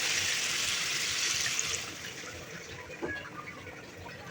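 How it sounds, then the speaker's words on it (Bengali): Water poured into a pot of braised meat and chicken curry with large potato pieces to make the gravy: a steady, close rushing pour that eases off into quieter trickling. "এবার পানি দিয়ে দিই পর্যাপ্ত ঝোলের জন্য।"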